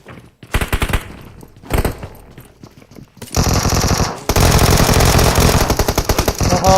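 Automatic gunfire in PUBG Mobile, several loud rapid bursts separated by short pauses, building into a long dense sustained volley toward the end.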